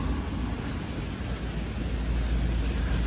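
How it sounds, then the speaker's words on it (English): Steady rain falling on a New York City street, a constant close wash of heavy downpour with a low rumbling undertone throughout. "Tom, this is our 7th consecutive weekend of rain"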